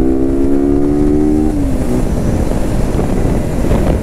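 A steady, loud roar of a Yamaha RS200 motorcycle being ridden, with heavy wind rush on the microphone and a brief tonal whine that drops in pitch early on.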